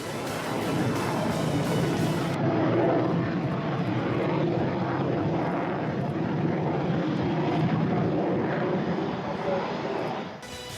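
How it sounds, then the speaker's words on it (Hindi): A Rafale multirole fighter jet, twin-engined, gives a loud, continuous engine roar that stays heavy and steady for about ten seconds before easing slightly at the end. "राफेल की गर्जना ऐसी है कि दुश्मन का दिल बैठ जाए"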